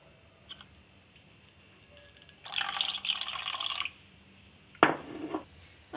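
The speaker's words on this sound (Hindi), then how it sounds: "अब मैं इसमें थोड़ा सा पानी ऐड करूँगी।" Water poured into curd while making boondi raita: two short bursts of pouring and splashing, a longer stream in the middle and a brief splash near the end, close and fairly clear with no talk.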